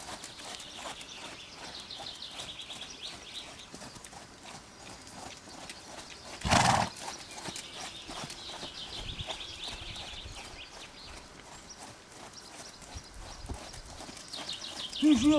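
A horse working on a lunge line beside its trainer, a young foal nearby, soft rhythmic hoofbeats on the ground, with a brief louder thump midway and faint bird calls in the background.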